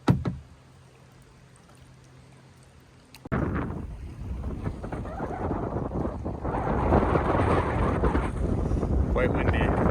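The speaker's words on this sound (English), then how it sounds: "It's pretty windy out here" Strong wind buffets the microphone, a loud continuous roar that kicks in abruptly after a quiet stretch and builds steadily louder.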